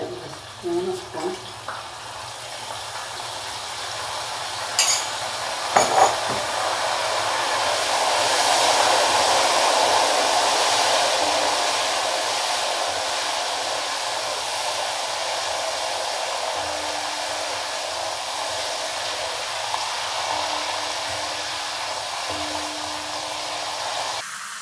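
Banana chips frying in hot oil right after salt water is added, a steady broad sizzling hiss that swells in the middle and then settles, with a few faint clinks near the start.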